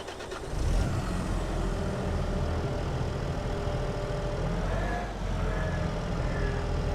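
A tractor engine in the farming video game Farming Simulator 22 runs steadily with a deep, continuous rumble, loud and close, with a faint rising whine near the end.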